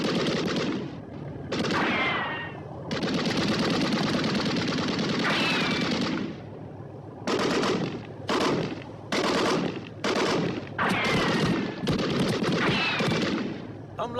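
Bursts of automatic gunfire in a Hindi action movie scene, several loud rapid volleys separated by short pauses, with a brief voice at the start.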